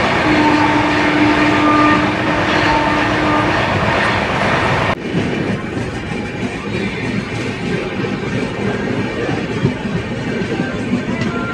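Swarna Jayanti Express train gathering speed on the tracks, a steady loud rumble of wheels and carriages with a brief horn-like tone early on, then a sharper shift into continuous rolling noise.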